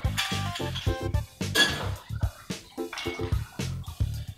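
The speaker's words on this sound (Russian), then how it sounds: "Добавляем льда." Ice cubes dropped into a glass of homemade lemonade, giving a run of close, bright clinks and knocks of ice against glass, with brief rattling clusters spread through a few seconds and no voices.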